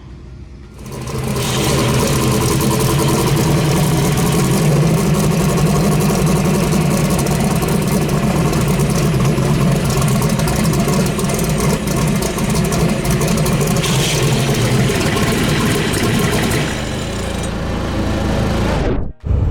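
A drag race car engine idles steadily and loudly at a racing event, a continuous low rumble with a dense mechanical whir that holds for about fifteen seconds before cutting off abruptly.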